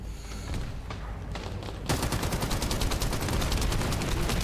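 Rapid gunfire from the video game The First Descendant, sparse shots at first then a dense, loud stream of automatic fire from about two seconds on, with no talking.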